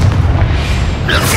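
A Confringo spell explodes in the Hogwarts Legacy video game, a loud, deep boom that rolls on for a moment before a brighter burst rises near the end.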